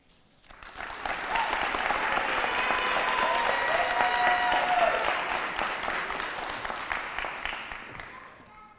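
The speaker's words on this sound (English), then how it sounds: "Let's give our graduates one more round of applause." Enthusiastic applause for graduates at a college School of Education pinning ceremony swells quickly into a dense, sustained round of clapping from a large audience, then gradually tapers off.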